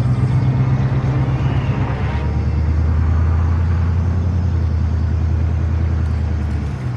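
A patrol vehicle moving in a military video game, heard as a loud, steady engine drone and low road rumble that shifts pitch slightly partway through, with no talk over it.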